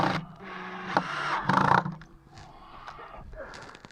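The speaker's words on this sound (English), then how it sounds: "I'm just going to pop the screws back in on the side here." Screws are driven back into the side of a wooden garden bridge, producing close whirring bursts from a driver and the grinding of screws biting into wood, separated by short pauses.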